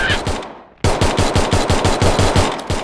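Rapid automatic gunfire in the mobile shooter Free Fire Max, with a short burst, a brief gap, then a sustained loud rhythmic stream of close shots.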